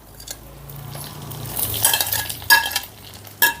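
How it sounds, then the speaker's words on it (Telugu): Ivy gourd pieces drop into a hot tempering of spices in a pan, setting off a close frying sizzle with stirring scrapes and sharp metal clinks of a spoon against the pan. "ఇప్పుడు మనం పక్క తీసి పెట్టుకున్న ఈ దొండకాయ ముక్కల్ని వేసేసుకుందాం"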